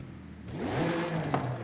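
In Forza Horizon 5, a V6 car fitted with a street exhaust idles, then gives one rising rev that climbs and eases back, heard up close with no voices.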